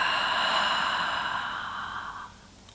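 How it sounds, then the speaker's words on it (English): A long, soft exhale through the mouth during a yoga breathing exercise, close and airy. It fades gradually over about two seconds into quiet. "Nice long breath out through the mouth."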